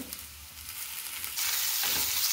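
Tomatoes sautéing in a pan over medium heat for a spicy paneer frankie filling, a steady close sizzle that swells louder partway through as they hit the hot oil, with occasional stirring scrapes and no voices.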